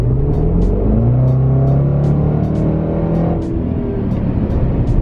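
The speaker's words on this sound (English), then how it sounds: "I'm gonna like push it a little bit here so that you guys can see what it sounds like inside the car." A 2020 Range Rover SVR engine revs as heard from inside the cabin, a loud, steady low rumble that swells and eases with pedal input, with no talking.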